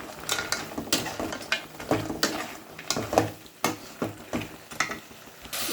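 Potato manchurian mixture being stirred in a pan, a spoon scraping and clinking against the metal in a steady rhythm of about a dozen sharp strokes, close and fairly loud over a faint sizzle.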